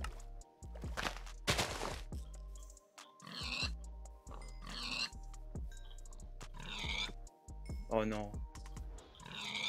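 Pigs grunt and oink in a Minecraft game near sugar cane while a French-speaking player talks over them, with soft blocky thuds and clicks scattered throughout.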